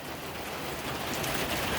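A rain squall pours down beside a covered front porch, a steady, close hiss of falling drops and splatter that holds evenly throughout.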